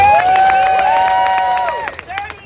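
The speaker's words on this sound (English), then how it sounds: "Let's give another round of applause to Mr. George Jones" A crowd at a Child Tax Credit rally at the Wilson Building applauds loudly and close by, with dense clapping and cheering voices sustained for about two seconds before thinning into a few scattered claps.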